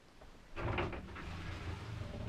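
Built-in closet doors in a Paris apartment bedroom being opened, a soft sliding, knocking rattle rising midway through the clip at close range against a quiet room.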